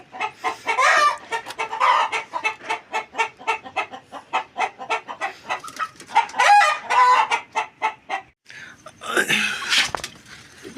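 Hungry hens cluck in a rapid, loud burst of overlapping calls while squabbling, with a rooster-like crow near the end and someone talking briefly alongside.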